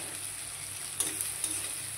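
Cashews and raisins frying with whole spices give a soft, continuous sizzle with a few light stirring clicks near the middle, quiet and close with no talk.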